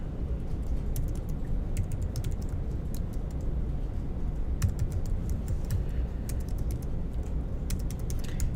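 Steady, quiet typing on a computer keyboard, with dense, even key clicks and occasional sharper taps continuing throughout with no talking.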